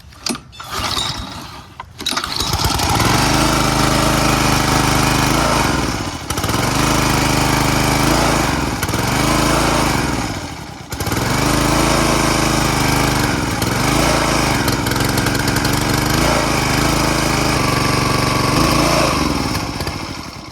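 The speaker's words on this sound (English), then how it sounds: "It was running without choke for a little bit, although it was about to die several times." A small engine on an old wood splitter runs loudly and close up with the choke off, chugging steadily but dipping and stumbling a few times as if about to stall.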